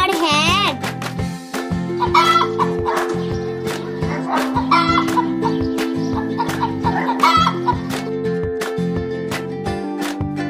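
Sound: hen clucking

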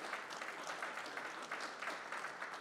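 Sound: audience applause at pool tournament

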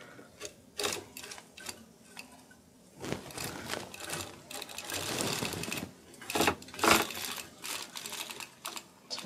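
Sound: cranking a circular sock machine one round

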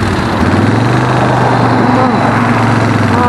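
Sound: Suzuki Desperado 800X V-twin motorcycle engine running

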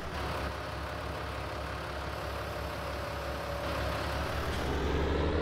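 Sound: tractor engine in Farming Simulator 19 video game

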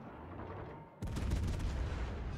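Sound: battleship Vermont gunfire in video game World of Warships

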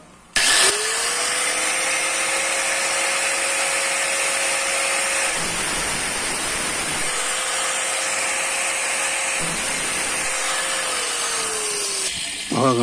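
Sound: power drill used on a stuck screw

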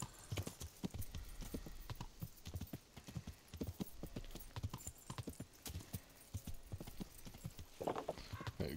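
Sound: horse hooves clip-clopping in the video game Kingdom Come: Deliverance

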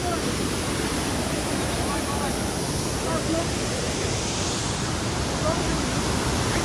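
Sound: waterfall with lots of water coming down

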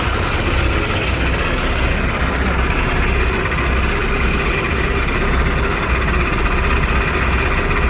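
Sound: tractors working in a field, engines running

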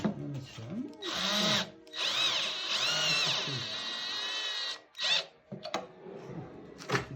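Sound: power drill driving a self-tapping screw into wood

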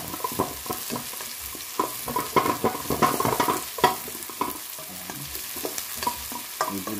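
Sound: onion sautéing in a pan for pork asado

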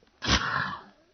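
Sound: sneeze

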